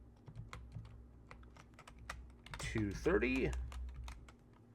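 Someone types on a computer keyboard in quick, light, irregular clicks, close and fairly quiet, while someone talks over part of the tapping.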